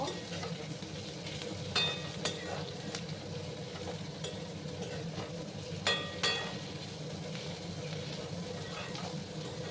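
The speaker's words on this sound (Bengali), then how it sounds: "ভালো করে আমি পেঁয়াজগুলোকে একটু লাল লাল করে ভেজে নেব।" Chopped onions frying in oil in a pan for a jackfruit seed dal, a steady close sizzle running throughout with occasional sharper stirring scrapes and clicks on top.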